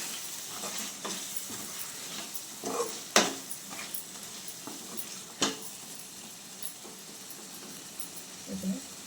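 Spice masala is stirred into Andhra-style chicken curry in a sizzling pan: a faint sizzle with occasional sharp clinks and scrapes of the spoon, quiet and close, while someone talks over it.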